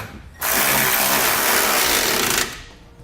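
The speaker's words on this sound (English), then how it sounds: "Now with the 17mm socket, I'll come snug up the 2 bolts at the top of our bumper beam." A power impact tool with a 17mm socket snugs the top bumper beam bolts during a Blue Ox base plate install on a 2017 Jeep Cherokee, one loud sustained buzzing burst of about two seconds that stops abruptly.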